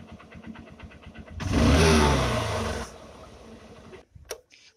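A 2019 Honda Shine SP motorcycle with its carburetor being adjusted runs at a steady idle, then revs up loudly for about a second and a half, settles back, and cuts off with a few final sputters.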